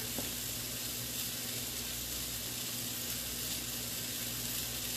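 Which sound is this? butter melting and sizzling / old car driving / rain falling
butter melting and sizzling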